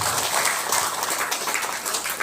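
Applause from a gathering at a mosque friendship meeting in Kotabumi, North Lampung, greeting an honoured guest: dense, steady clapping that fills the space at close range, with no voices standing out.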